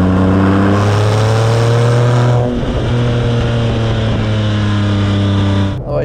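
A 2010 Porsche 997 GT2 RS with manual gearbox accelerates hard on the autobahn, its engine note loud and close, rising steadily through the revs with a brief dip at a gear change before climbing again.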